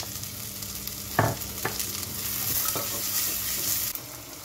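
Onions sautéing in a pan with fenugreek for a chickpea and eggplant dish: a steady soft sizzle with a few sharp spoon-against-pan scrapes and stirring knocks, close and moderately loud, with no talking.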